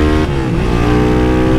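A Start 230 motorcycle running on ethanol revs hard and accelerates, its loud, close engine holding a steady roar with a rising pitch throughout.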